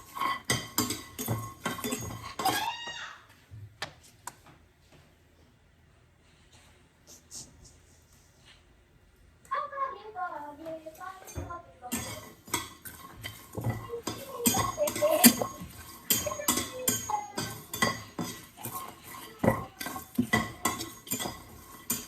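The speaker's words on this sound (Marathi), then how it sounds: "थोडस लसूण भाजून घेते, मग मिरच्या भाजून घेते" Garlic and chillies are roasted in a pan, with close metallic clinks, scrapes and stirring of a utensil against the pan, a quieter stretch in the middle, and a voice talking in places.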